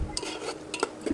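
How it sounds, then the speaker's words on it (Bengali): Onion paste masala stirred in a pan over low heat for a potato and tengra fish curry, with a few short scraping and clinking stir strokes and a faint background hiss, no talking. "এই যে দেখেন এখন আমি একটু নাড়াচাড়া করে একটু কষিয়ে নিব লো তাপে"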